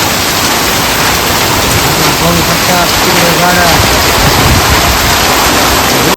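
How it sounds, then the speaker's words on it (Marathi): Heavy unseasonal downpour at Killedharur, a dense, steady roar of rain hammering surfaces, loud and continuous throughout, with brief voices faintly underneath. "एवढा मोठा फार पाऊस आहे"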